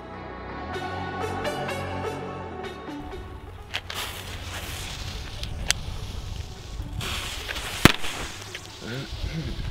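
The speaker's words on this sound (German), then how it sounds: "dass ich hier jetzt diese Böller gezündet habe" Voices at the start give way to New Year's firecrackers crackling and popping, with a few sharp, loud bangs standing out.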